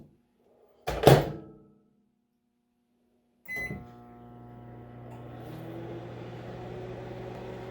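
A microwave oven cooking a blueberry mug muffin: a thunk or beep at the start, a pause, then a clunk as the oven starts and settles into a steady, low hum.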